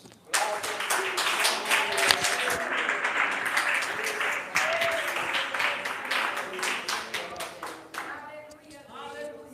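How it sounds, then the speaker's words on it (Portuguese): A church congregation claps and applauds steadily for several seconds, dense and loud, with a few voices mixed in before it tapers off at the end. "Palmas para Jesus."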